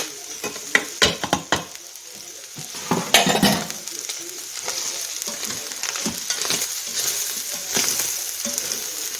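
Diced carrots tumble into an Instant Pot and are stirred, with sharp clattering drops and scraping followed by a steady sizzle and repeated stirring scrapes close by, no voices.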